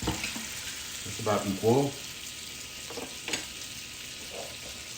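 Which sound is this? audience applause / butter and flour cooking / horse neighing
butter and flour cooking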